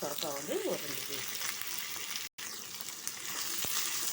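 Onion, bottle gourd and carrot sauté in a pan for sambar, giving a steady, dense sizzle and frying hiss. A few stirring scrapes and a brief voice are heard early on, and there is a short dropout midway.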